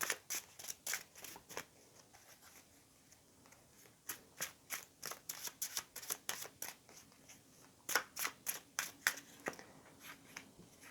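Tarot cards are shuffled by hand in quiet, close, rapid bursts of crisp snaps and flicks, pausing briefly between rounds.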